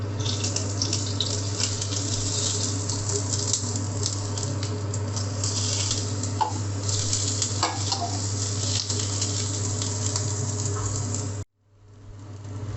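Onions sauté in hot oil in a pan, giving a loud, steady crackling sizzle with a few soft stirring knocks. The sound cuts out abruptly near the end, then resumes more quietly.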